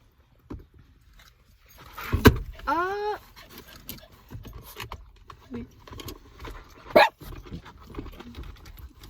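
Two house dogs let out a few sharp barks, one near burst and a later short yelp, between quiet stretches with people talking nearby.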